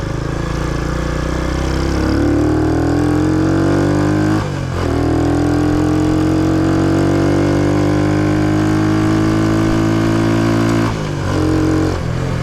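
A Honda Trail 90 motorcycle fitted with a larger sprocket climbs a trail hill, its small engine droning loudly and steadily, pitch rising as it revs, with brief dips at gear changes.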